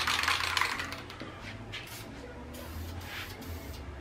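A spray paint can hisses onto a crusty 2001 Honda Accord rim in short bursts, loud at first and then lighter misting passes, close by with faint rattling between sprays.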